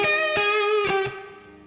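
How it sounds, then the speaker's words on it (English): An electric guitar runs through a NUX Verb Core Deluxe spring reverb pedal, ringing out with a sustained chord, a few sharp picked strums and a decaying springy tail, close and alone. "to me, spring reverb always feels pretty readily usable"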